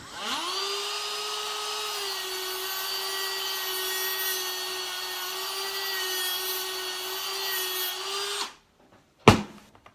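A Dremel rotary tool grinds away excess plastic around a bearing in an RC car's steering, giving a steady, close, high-pitched whine that holds for about eight seconds, then cuts off, followed by a short clatter.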